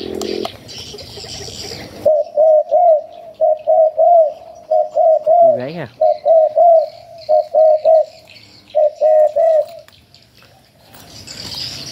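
Repeated dove-like coos sound in short regular bursts, clear and close, with a louder rising call midway; softer noise sits before and after.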